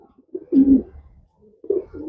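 A pigeon kept for sale gives a few low, throaty coos at close range, one short note followed by a louder rolling coo and another after a pause, with quiet gaps between.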